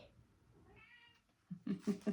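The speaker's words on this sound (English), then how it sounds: "meowing like she's the boss. She wants me to open the door" A house cat meowing at a closed door, with a faint thin meow early on followed by several louder, closer insistent cries toward the end.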